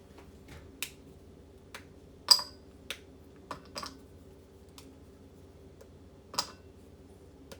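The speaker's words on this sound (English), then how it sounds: "As you can see, I'm breaking up the chocolate bar." A chocolate bar is broken into pieces for keto muffins, giving several sharp, sparse snaps close by against a quiet background with a low hum.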